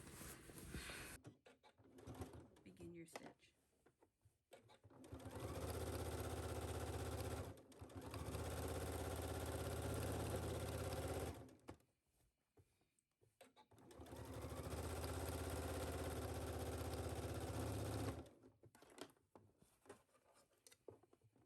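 Sewing machine understitching a facing to its seam allowance toward the corners, running in two long steady bursts of several seconds each, separated by pauses with light handling noises; close and clear, no talking.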